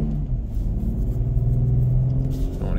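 A Ford F-150 pickup engine idles steadily at an estate auction, a deep, even rumble held close and loud for the whole stretch, with a slight rise in revs near the end.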